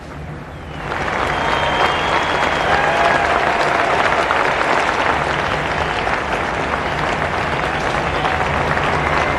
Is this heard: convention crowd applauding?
yes